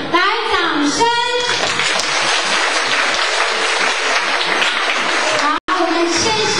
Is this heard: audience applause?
yes